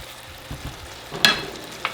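Tomato sauce hits a hot pan of cooked tomatoes and sizzles steadily as a utensil stirs it, with a sharp scrape and clink partway through, close and clear.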